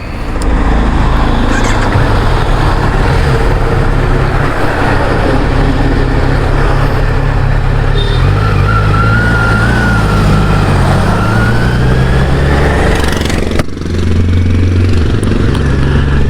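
Kawasaki Z streetfighter motorcycle pulling away, its engine a loud, continuous close drone with shifting revs and a brief dip near the end, no talking over it.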